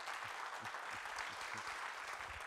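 A television studio audience claps steadily, a dense wash of applause that stays even and fairly faint throughout.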